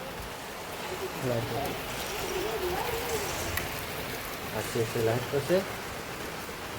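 Steady light rain falls in Banaskantha, a soft constant hiss through the whole stretch, with pigeons cooing in bursts and a person talking nearby.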